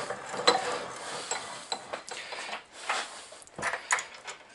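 A bench vise is cranked tight, making a series of separate metallic clicks and ratcheting scrapes in uneven bursts, fairly quiet and close.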